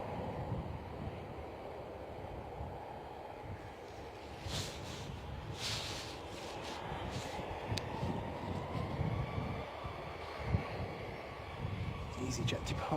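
A fixed-wing airliner touches down and rolls out along the runway at Bristol Airport, a distant, steady engine roar with a rising whine of reverse thrust, while people talk quietly over it.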